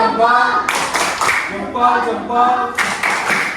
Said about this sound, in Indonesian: kita berikan mereka tepuk salut